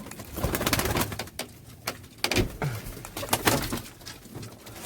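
Pigeons coo in a backyard coop, their soft throaty rolling calls repeating in overlapping bursts, close and moderately loud, with occasional rustling among the birds.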